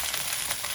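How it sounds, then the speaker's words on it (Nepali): Spices and paste fry in a hot pan with a steady, close sizzle that runs unbroken for the whole short moment, without any voices. "योसँगै भुट्न दिन्छु"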